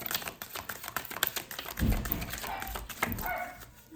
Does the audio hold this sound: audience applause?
no